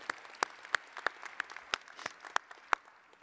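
Sparse, faint applause at a fall graduation ceremony, with a handful of distinct individual claps ringing out at irregular intervals over a quiet background.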